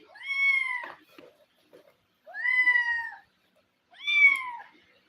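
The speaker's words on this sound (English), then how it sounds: "What's so cute, cat baby?" Kittens mew in three clear, drawn-out high calls spaced about two seconds apart, close and fairly loud against near silence.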